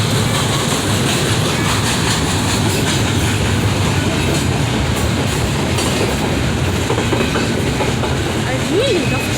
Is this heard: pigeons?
no